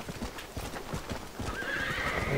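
Horses pulling a coach in Red Dead Redemption clip-clop steadily while one neighs, the hoofbeats close and continuous under a low game ambience, with no speech.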